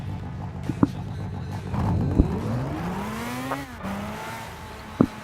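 Race car in Gran Turismo 6 at Deep Forest circuit, an engine note climbing steadily as the car accelerates past, followed by a gear change and a few sharp clicks and knocks, with no voices.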